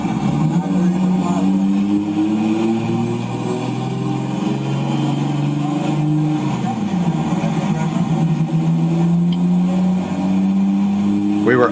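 A car engine revs hard on a dyno on race fuel, a sustained loud drone whose pitch climbs and shifts as it winds up, with a voice talking over it.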